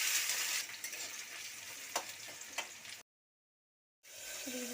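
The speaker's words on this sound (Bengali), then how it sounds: "পেঁয়াজটাকে ভালো করে ভেজে নেব" Chopped onions fry in mustard oil in a hot wok with a loud, steady sizzle and some stirring. The sizzle cuts off briefly before resuming.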